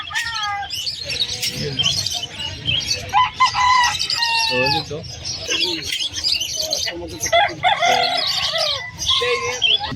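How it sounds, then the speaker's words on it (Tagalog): Roosters crow repeatedly among a crowd of clucking chickens and chirping birds at a pet market in Malabon, loud and close, with someone talking over them. "Dala nila yung mga manok. Ang gaganda na manok."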